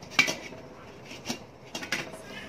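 Pots, dishes and cutlery clink and clatter in a home kitchen while tofu is steamed over boiling water, a few sharp bright knocks spread over quiet background.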